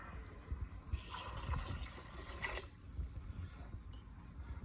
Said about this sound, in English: So I'm going to add some cold water now.